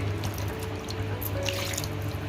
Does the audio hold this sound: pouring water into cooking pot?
yes